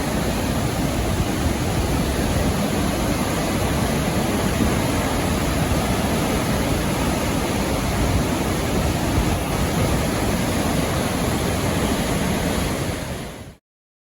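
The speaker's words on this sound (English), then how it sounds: "So this is what the water looks like coming out of the more rugged side of most falls." Water rushing out of open dam gates on the Spokane River, a loud, constant roar with wind buffeting the microphone, steady throughout before an abrupt cut at the end.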